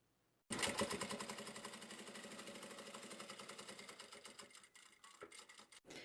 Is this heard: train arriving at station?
no